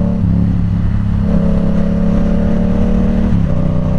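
A Yamaha R7 motorcycle accelerates up to the speed limit, its engine a loud, steady close-up drone that steps up in pitch twice as it moves through the gears, with constant wind noise.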